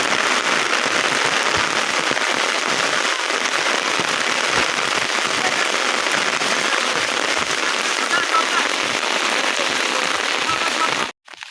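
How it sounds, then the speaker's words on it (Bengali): Heavy torrential rain pours down in a village, a dense, loud, unbroken hiss of drops hammering surfaces that holds steady for about eleven seconds before cutting off abruptly. "একটু থামছিল মেঘটা এখন আবার আইতাছে দেখেন কি পরিমাণ সাউন্ড"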